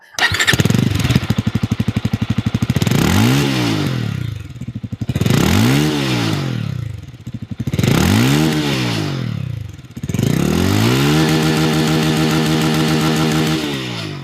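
A 2026 Bajaj Avenger 220 Cruise motorcycle engine starts and runs, its loud, close throb rising and falling through several rev swells before settling into a steady idle.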